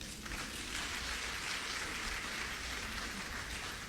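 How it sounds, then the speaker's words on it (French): Dense, steady clapping from a large crowd fills a ceremony in Abidjan, a continuous wash of hand claps holding at even loudness from start to finish with no voices standing out. "Ça s'applaudit."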